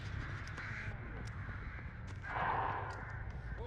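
Crows caw in the Dead by Daylight video game, a run of harsh, rasping calls close by, one swelling louder near the end, over a low game rumble.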